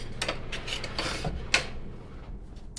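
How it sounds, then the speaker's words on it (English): A wok is set down on a stove to preheat before a rib-eye and bok choy chow mein stir fry, giving close metallic scrapes, rubs and light clanks of cookware with one sharper knock partway through. "time to preheat the wok"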